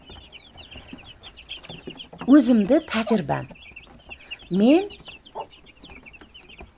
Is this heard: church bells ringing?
no